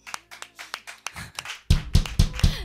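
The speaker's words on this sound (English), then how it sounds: "Round of applause to our sound technician." A few people clapping during a live full-band debut stream, starting as sparse, separate claps and then swelling into a louder, denser burst of applause close to the microphone.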